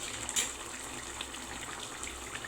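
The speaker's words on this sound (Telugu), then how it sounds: "ఇప్పుడు చింతపండు పులుపు వేసేసుకుందాం." Tamarind water pours into a pot of fish curry in a home kitchen, a steady close splashing gush with one brighter splash near the start and no talk.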